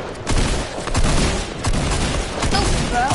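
Rapid bursts of video game gunfire crackle loud and close in a continuous volley for several seconds, dense and sharp with faint background chatter.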